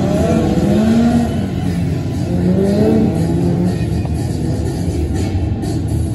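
Formula 2 stock cars circulate on a rolling lap at Skegness, their engines a loud, continuous drone with pitch rising and falling as the cars rev and pass close by.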